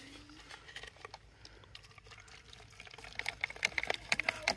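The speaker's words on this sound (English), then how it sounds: "I'm just going to pour the bottle" Liquid poured from a bottle into a homemade firework mortar outdoors, a light trickling, splashing patter that grows louder and more broken toward the end, with no talk over it.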